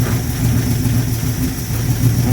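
A 1972 Plymouth Duster's 318 V8, revived after 25 years of sitting, runs steadily up close with a rough, uneven idle, its low rumble loping without ever smoothing out.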